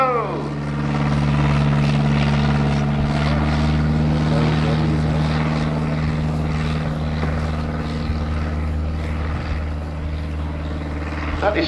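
A Piper Cub towing a Schneider SG-38 Daglin glider produces a steady, loud propeller-engine drone that holds evenly throughout.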